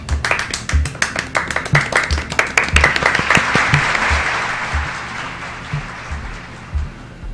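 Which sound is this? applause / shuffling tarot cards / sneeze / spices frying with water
applause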